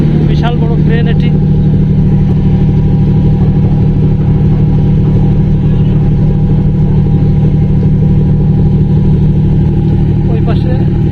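Large ship crane working at sea in the Bay of Bengal, transferring goods between ships, a loud continuous low mechanical engine drone, with someone talking over it.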